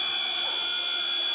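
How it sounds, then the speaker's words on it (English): A half-time buzzer sounds at a women's basketball game in an indoor arena, a steady sustained electronic tone held for over a second above the crowd noise. "that's the half-time buzzer"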